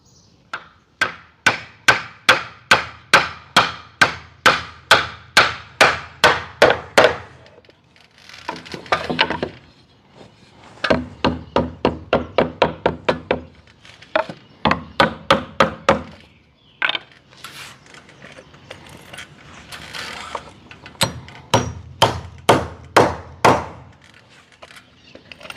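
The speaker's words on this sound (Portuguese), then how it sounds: "pode bater com o martelo por cima sem problema" Hammer blows strike wood during carpentry finishing work, sounding as loud rapid bursts of evenly spaced, ringing strikes, with short pauses and some lighter handling noise between sets.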